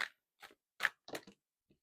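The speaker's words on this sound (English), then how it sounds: "My cat is like chewing on something in the corner." A cat chews something with soft, crunchy sounds in a quiet room, a handful of brief bites and gnaws spaced irregularly, with a faint last one trailing off.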